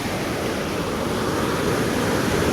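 Floodwater pours over the overflowing Moj dam with its gates open after heavy rain, a loud, steady, dense roar that never lets up, with no voices.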